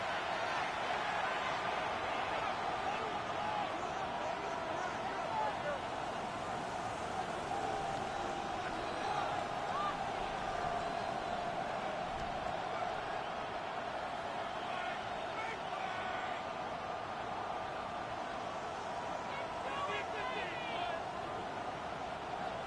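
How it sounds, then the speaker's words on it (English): Football stadium crowd at MetLife on its feet for a third down, a broad, steady roar of murmuring fans heard from a distance that holds level without big swells. "The crowd at MetLife on their feet for third down."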